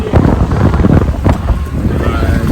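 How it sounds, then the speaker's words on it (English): Strong wind buffets the microphone in continuous gusts on the top deck of a pontoon, with a low rumble and faint water noise; a voice is partly audible beneath it. "A bit windy, but I'm just on top deck of the pontoon"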